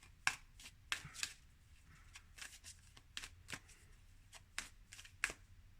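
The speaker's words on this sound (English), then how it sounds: "I'm just going to keep shuffling." Tarot cards shuffled quietly up close, with soft irregular riffling and sharp snapping taps.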